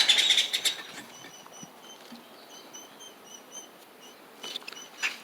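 Birds flutter and call near a garden worm-compost trench, a burst of wing flapping at the start and again near the end, with faint, thin chirps repeating in between; no one speaks.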